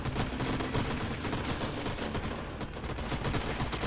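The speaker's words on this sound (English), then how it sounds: "Now we've just got that disgusting spitting bug, and we will try to shoot that." Gunfire aimed at a spitting bug in the strategy game Age of Wonders: Planetfall, a dense, steady crackle of rapid shots and battle noise, fairly quiet throughout.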